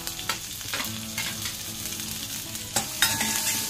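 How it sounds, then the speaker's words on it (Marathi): Ginger, garlic and a chili fry in hot oil with a steady close sizzle, broken by scraping stirs of a spatula and a few sharper clatters near the end. "त्याच्यात आता मी ॲड करणार आहे थोडंसं आलं, थोडासा लसूण, आणि जी ही एक मिरची घेतली होती ती सुद्धा"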